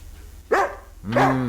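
A dog barks twice, close and loud, with a short pause between the two sharp barks.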